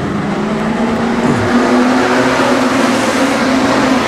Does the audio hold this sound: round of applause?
no